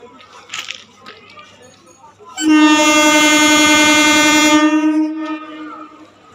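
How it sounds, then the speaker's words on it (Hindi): A passenger train departing Sealdah station in India sounds a loud, sustained horn for about two seconds amid rumbling rail noise, with faint background voices before and after. "बाय बाय हमारी प्यारी ट्रेन जिसने हमको शियालदा पहुंचाया।"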